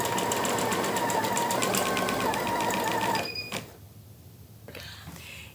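An embroidery sewing machine stitches a tote bag with a rapid, even mechanical chatter for about three seconds, then stops abruptly, leaving a quiet tail with a faint click.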